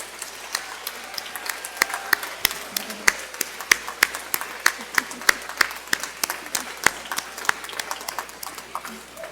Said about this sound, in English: Please join me all in one more round of applause for this stellar group of graduates.